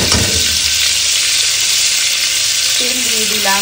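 Hot oil sizzles steadily and loudly in a pan as minced meat stuffing starts cooking, a continuous hiss with a brief stirring clatter at the start.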